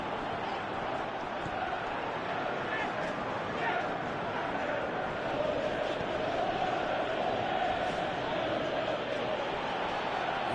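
A football stadium crowd reacts to an attack on goal with a dense, continuous roar of many voices that swells slightly near the middle and stays loud throughout.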